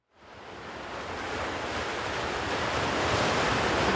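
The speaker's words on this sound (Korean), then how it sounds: "그런데 오늘 파도가 심상치 않습니다." Rough ocean waves crash on the windy Jeju coast, a loud continuous roar of surf that rises quickly from silence and keeps building, with wind noise mixed in and no voices.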